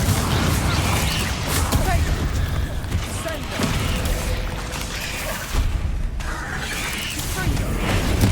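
Confringo blasting spell explosions in Hogwarts Legacy, a series of booming impacts and crashes over a dense game soundscape, with a voice speaking at points.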